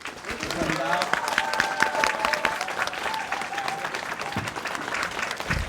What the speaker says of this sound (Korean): 뜨거운 큰 박수 부탁드립니다